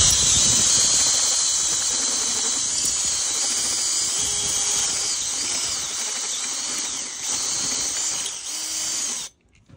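A DeWalt bit grinds into a Kymco Xtown 300 scooter's metal clutch bell, a steady high-pitched drilling squeal held close and loud for about nine seconds, wavering slightly before cutting off abruptly near the end.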